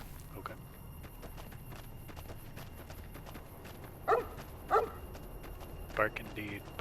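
Cheyenne the dog barks three times in Fallout New Vegas, short sharp yelps spaced apart over a steady game ambience with soft footsteps.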